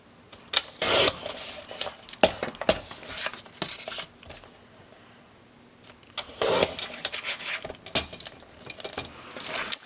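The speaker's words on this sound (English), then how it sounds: "I'm going to trim the rest of it up" Paper for a 6x6 mini album is trimmed, with repeated close scraping and rasping strokes coming in short bursts and brief pauses, and no talk.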